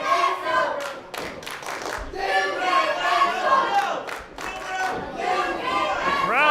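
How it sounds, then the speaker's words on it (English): A loud wrestling crowd at an IZW independent pro wrestling show shouts and cheers continuously, with scattered yells, chants and occasional thuds rising and falling throughout. "The crowd very, very vocal."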